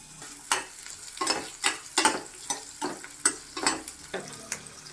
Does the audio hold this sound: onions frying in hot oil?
yes